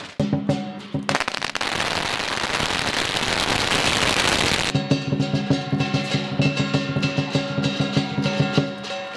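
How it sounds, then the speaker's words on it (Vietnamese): Firecrackers set off after a Lunar New Year lion dance at an outdoor flag-raising ceremony: a dense, loud crackling barrage for several seconds, then scattered sharp pops over festive drumming and gongs. "Sau phần nghi lễ là màn múa lân và đốt pháo."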